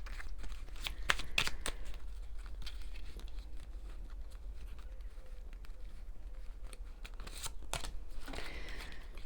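Oracle cards being shuffled by hand: soft, papery flicks and riffles in irregular bursts, louder clusters near the start and end, with quiet room tone in between and no talking.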